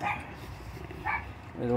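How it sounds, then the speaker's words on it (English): A dog barks twice in a home where a solar panel is being tested, sharp near yaps with a moaning whine at the end, under background noise. "the dog's going crazy"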